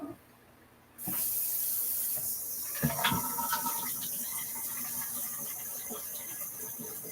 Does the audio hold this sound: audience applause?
no